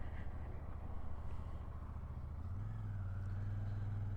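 A 2024 Royal Enfield 650 Shotgun motorcycle idles on a wet day in Cornwall, a low engine rumble that steps up into a steadier, stronger throb partway through, with no talking.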